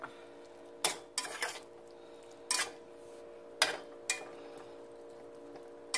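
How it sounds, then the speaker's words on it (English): A utensil stirs turnip greens in a cooking pot, giving about half a dozen sharp metallic clanks and scrapes in an irregular rhythm over a low steady hum, close by with no voices. "just stirring that up"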